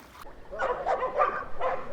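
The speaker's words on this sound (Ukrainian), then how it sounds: "Але тут он сусідські собаки." Dogs bark and yip nearby in short, excited bursts, with a few whimpering notes mixed in.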